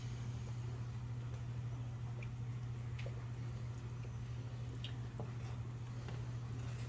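Sausage and bacon gravy boiling in a cast iron pan, soft continuous bubbling and wet popping under a steady low hum, faint and close.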